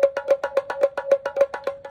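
Toy rattle drum spun between the hands, its balls striking the drumhead in a fast, even series of about a dozen sharp clacks over a steady tone, close and fairly loud.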